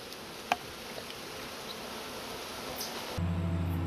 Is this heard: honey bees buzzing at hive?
yes